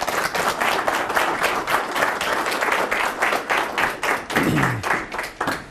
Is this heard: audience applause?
yes